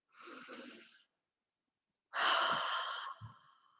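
A slow, deep breath during a guided breathing exercise, a long airy inhale, then a pause of silence and a fuller, louder exhale, heard close and alone.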